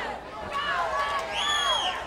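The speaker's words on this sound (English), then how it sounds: "Crowd going crazy." Wrestling crowd at a TNA match in 2002 roaring and cheering loudly after a one-arm power bomb, a dense sustained swell of voices with rising whistles and shouts, steady and near throughout.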